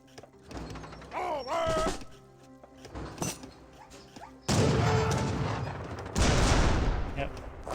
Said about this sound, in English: Ooh, that was a good volley there of the heavy cannons.